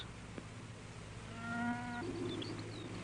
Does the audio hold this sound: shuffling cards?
no